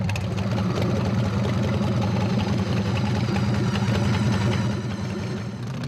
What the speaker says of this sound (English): At the end of the day, everyone's supposed to see that the bike actually runs.